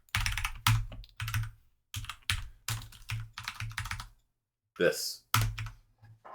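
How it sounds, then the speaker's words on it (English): Fingers tap out bursts of quick keystrokes on a computer keyboard, clattering in short clustered runs separated by pauses, with a brief spoken word in one gap. "Oh, stop typing again."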